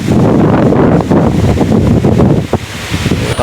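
Strong wind during Typhoon Kristine in Guinayangan, Quezon buffets the microphone with loud, gusty roaring and rustling, surging and easing unevenly throughout.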